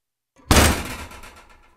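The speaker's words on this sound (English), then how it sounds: "Let's use one of the oven samples." An oven recorded as a raw, unprocessed sound sample for designing a sub boom. One sharp, heavy metallic thud or slam is close and loud, with a booming low end and a short ringing decay.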